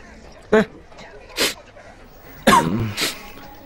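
A person with a cold coughs and sneezes in four short, sharp bursts spaced across a few seconds, close and fairly loud in a quiet room.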